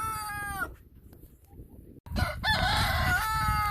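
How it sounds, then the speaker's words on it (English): A big, thick red rooster crows loudly and close by in a backyard chicken pen, one long call breaking off into a brief lull and then a second strong crow. "This big, thick, red rooster right here in the dead front"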